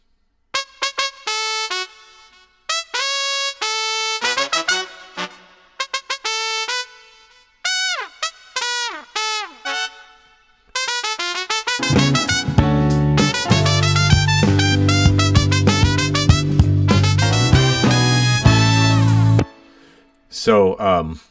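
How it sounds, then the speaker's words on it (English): A lead trumpet solo from a virtual vintage horns instrument in Logic Pro X, played first alone in short bright phrases with gaps, then joined by a fuller backing of horns and bass in a funk arrangement. "So this is the trumpet solo."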